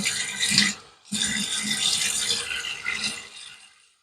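Water runs from a tap for about a second, stops briefly, then flows again for a few more seconds before tapering off, wetting the face before a wet shave.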